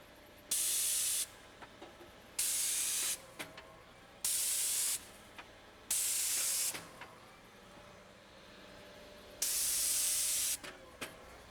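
An airless paint sprayer coats farmhouse clapboards in five loud, steady bursts of hissing spray, each lasting about a second, separated by short pauses with faint clicks and handling noises.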